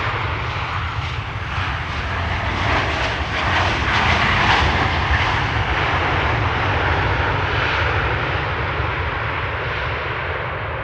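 A jet airliner arriving at Amsterdam Schiphol Airport makes a loud, continuous engine roar that stays at a steady level for about ten seconds. No one speaks.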